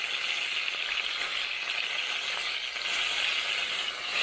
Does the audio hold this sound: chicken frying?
yes